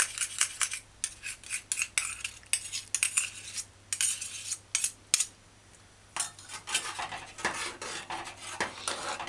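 A spoon stirs flour into peanut porridge, with repeated scraping and clinking against the pot in an uneven rhythm, a short pause midway, then more stirring, close and moderately quiet.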